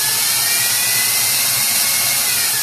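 An electric mixer with a whisk attachment whirs steadily through yellow cake batter, a loud, continuous high-pitched motor hum with no talking.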